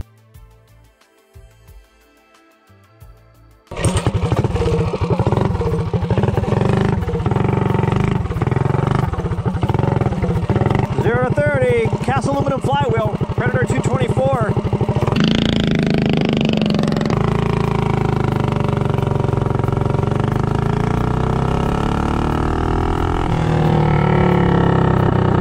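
After a few seconds of quiet, a Predator 224 engine fitted with a cast aluminum flywheel roars loudly on a speed run, revving hard and rising in pitch, then holding a steady high drone.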